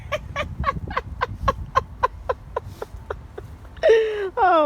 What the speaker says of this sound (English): Look at them chicky babies. There's some birdies in there.